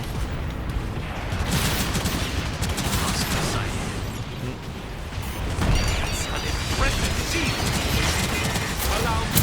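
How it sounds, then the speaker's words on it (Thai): Heavy cannon fire from a Gundam mech action game, dense repeated booming blasts and crashing impacts layered with mechanical clatter, loud and continuous throughout with little pause. "ยัดปืนใหญ่เข้าไปไม่รู้โดนไหมยัดไปก่อนทำเดเมจสเปซไป"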